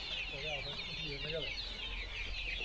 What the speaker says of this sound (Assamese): ইয়াতে 600 লোকেল মুৰ্গী আছে